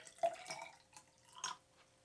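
Water trickles and drips faintly into a container as 100 milliliters is measured out and poured, a few light splashes and drips spread across a quiet stretch.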